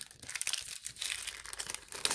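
Crinkling and rustling of plastic packaging from an AliExpress haul being torn open up close, with brisk irregular crackles over about two seconds.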